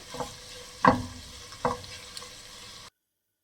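Vegetables sauté in oil for a vegetable biryani. A soft sizzle runs under a few louder stirring scrapes and clatters of the spoon against the pan, then the sound cuts off abruptly.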